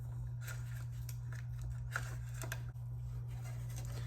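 An old gasket is pried and peeled off the fan housing of a Mazda B2300 / Ford Ranger truck, giving close, scattered scraping and crackling clicks over a steady low hum.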